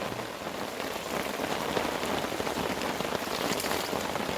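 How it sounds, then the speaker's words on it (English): Steady rain patters on a tarp and the surrounding ground at a forest campsite in North Carolina, a close, continuous hiss of drops with no voices. "But I think the rain has us hamstrung for the moment."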